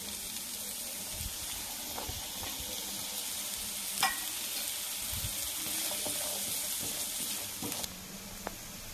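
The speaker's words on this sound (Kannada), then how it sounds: "ಇವಾಗ ಸ್ವಲ್ಪ ಆಯಿಲ್ ಹಾಕ್ಕೊಂಡು ಕುಂಬಳಕಾಯಿ ಎಲ್ಲ ಚೆನ್ನಾಗಿ ಹುರ್ಕೋಬೇಕು" Yellow pumpkin frying in oil with garlic in a pan, a steady sizzle with soft stirring scrapes and a few louder clicks, close up and without speech.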